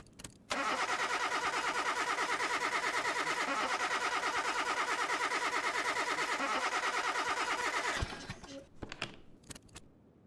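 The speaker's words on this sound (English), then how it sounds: "just from the listening to the car trying to turn over" A car engine in Car Mechanic Simulator 2021 cranks continuously with a rapid, even starter rhythm for several seconds, failing to turn over, then cuts off abruptly, leaving a few faint clicks.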